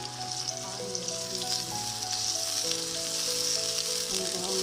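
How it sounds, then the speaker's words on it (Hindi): Onions sizzle and crackle steadily in hot oil in a pan while cooking chicken and potato curry, a continuous close hiss with a low, sustained tonal hum running beneath it. "और ये प्याज हम इसमें फ्राई करने के लिए डालेंगे"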